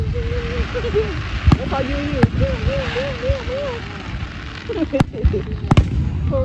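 Fireworks at a 4th of July celebration in a park: sharp bangs and pops burst out at irregular intervals over steady crowd chatter and people talking nearby.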